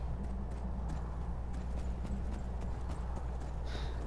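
Horse hooves clip-clopping in a video game: a steady, brisk run of close hoofbeats on hard ground, continuous and unaccompanied.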